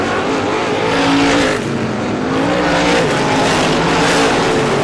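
Race car leaders thunder down the front straightaway in the late stages of an oval track feature, multiple engines loud and close with shifting pitches as the cars pass, no voices over them.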